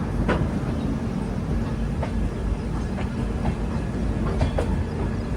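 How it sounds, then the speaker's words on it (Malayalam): Garib Rath Express rolling into Kanpur Central station: a steady, loud low rumble of moving coaches with faint periodic clicks from the rails, no voices. "ട്രെയിൻ ഇപ്പോൾ കാൺപൂർ സെൻട്രൽ റെയിൽവേ സ്റ്റേഷനിലേക്ക് ഇതാ എത്തുകയാണ്"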